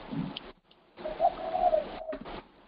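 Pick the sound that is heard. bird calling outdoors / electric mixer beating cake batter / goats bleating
bird calling outdoors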